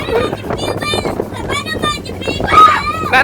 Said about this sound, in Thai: นี่ลมของจริงลมธรรมชาติอ่ะ